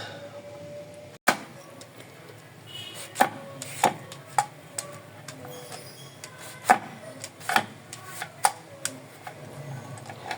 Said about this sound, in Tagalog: Iyon, binalat natin ng peeler, ha.